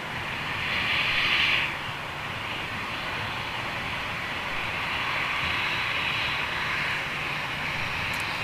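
A Lufthansa aircraft at Manchester Airport, a steady broad engine roar heard from a distance, swelling slightly early on and then holding at a constant level, no talking.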